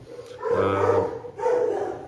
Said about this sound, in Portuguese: eu estou fazendo assim para a gente tentar fazer os cachorros pararem de latir